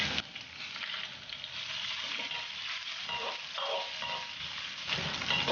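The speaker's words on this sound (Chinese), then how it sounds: "油热加入肉片爆香。" Pork slices stir-fry in hot oil in a wok with a loud, even sizzle that fills the whole stretch, overlaid by rhythmic stirring scrapes and tossing, and no one speaking.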